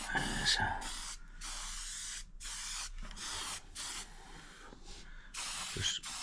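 Aerosol spray paint being applied to Honda CB750 F1 side panels, a series of short hissing bursts with brief pauses between them, close and clear, with a voice in places.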